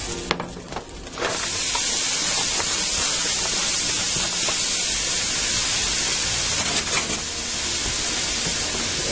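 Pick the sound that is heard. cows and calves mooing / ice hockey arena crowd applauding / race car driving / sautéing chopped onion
sautéing chopped onion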